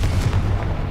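Confringo fire-blast spell going off in Hogwarts Legacy, a brief loud booming burst with heavy low rumble, heard alone.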